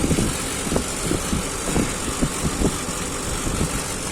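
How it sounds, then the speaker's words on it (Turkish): An air conditioner's fan runs steadily after its fan capacitor is replaced, a continuous broadband whir with faint irregular clicks, fairly close and with no talking. "Fan ucu kapasitörünü taktığımız zaman fanın çalıştığını şöyle sizlere de göstermek istiyorum."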